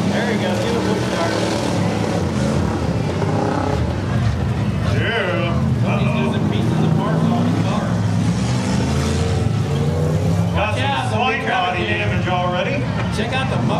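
A loud, steady engine and exhaust roar fills the scene at a fair combine derby, with an El Camino's mufflers among the running vehicles, a continuous drone under excited crowd talk.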